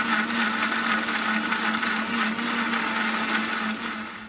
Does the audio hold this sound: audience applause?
no